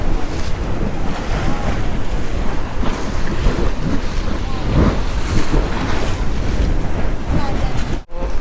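Strong wind buffets the microphone on the beach at Bantayan Island, a constant roaring gust with surf rumbling underneath, loud and unbroken.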